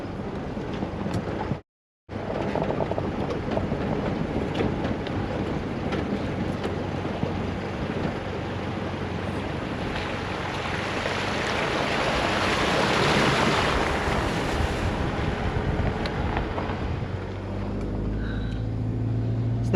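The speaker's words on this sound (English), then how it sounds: "although I'm driving over a creek bed at the moment" A car drives slowly over a creek bed at Carnarvon Gorge in Queensland, giving a steady rumble of tyres on stones and water that runs unbroken for about twenty seconds with no talking.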